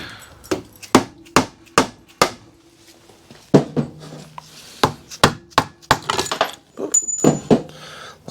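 Harley-Davidson Evo Sportster engine bolts are shoved one by one into a cardboard template, producing a string of sharp, close knocks and taps at an irregular rhythm with short pauses between them.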